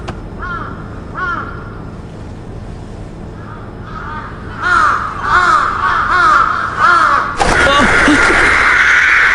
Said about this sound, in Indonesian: Itu saat gagak berbunyi.